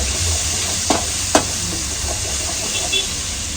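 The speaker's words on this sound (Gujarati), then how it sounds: "એટલે બધા મસાલા એક રસ થઈ જાય ત્યાં સુધી આને હલાવતું રહેવાનું છે" Onion paste with chili paste, curry leaves and spices fries in a pan for dal makhani, a loud steady sizzle broken by a couple of sharp stirring scrapes.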